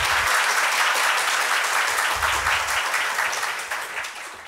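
Audience in a lecture hall claps after a special guest lecture, a full round of steady applause from many hands that holds strong and then begins to taper off toward the end.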